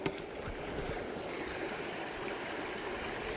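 A small mountain stream in a clear Gangwon-do valley trickles and babbles steadily as a close, continuous wash of water noise with a few brief splashes near the start.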